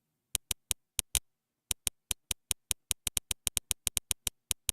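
A real-time lightning detector ticking with sharp, isolated clicks at an irregular pace, sparse at first, then coming faster and denser, alone against silence.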